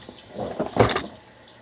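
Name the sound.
water running from tap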